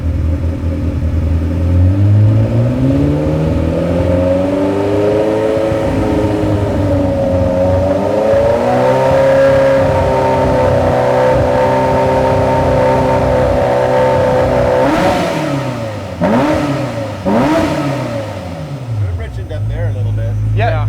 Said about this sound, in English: you got that acceleration, Richmond, like you should